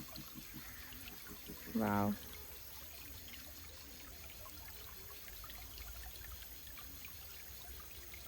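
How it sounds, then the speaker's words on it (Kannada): A village stream flows steadily beside an outdoor cooking spot, a soft, continuous trickling wash in the background, with one brief exclamation from a voice. "ನೀರಿನ ಸೌಂಡ್ ಕೇಳಿಸ್ತಾ ಇದೆಯಾ?"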